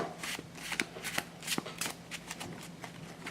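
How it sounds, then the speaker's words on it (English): Magic: The Gathering cards from a Dragon's Maze intro pack are shuffled overhand in sleeves, giving close, quick papery flicks and slaps in an uneven run with no talk. "Let's do a light shuffle this time."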